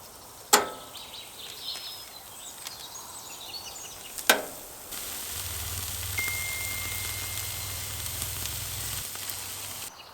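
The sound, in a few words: steak lollipops searing on a barbecue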